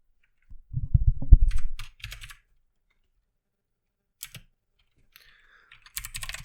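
Computer keyboard typing while writing Unity code: a short burst of close clicks and taps, then scattered single key presses separated by silence, with another small cluster at the end.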